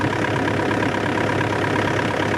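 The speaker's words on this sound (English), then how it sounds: "I can hear the air racing through the thinness of the radiator" Hitachi excavator engine running steadily during an overhaul and service, air drawn through the radiator, a loud continuous close-up engine drone with dense airy rush and no change in pitch, no talking.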